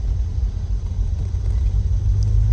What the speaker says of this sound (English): So you take it out of park, push the button, and we go.